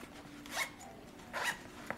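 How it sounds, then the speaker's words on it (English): Two short zipper pulls on clothing, spaced apart with a brief faint tick after the second, heard close up against quiet room tone. "We have a zipper to zip."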